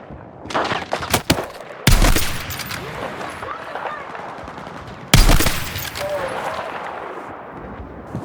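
Rapid bursts of gunfire from a firefight in the video game Battlefield 6: clustered shots early on, then two sharp heavy blasts, each followed by sustained rattling fire and echoing combat noise.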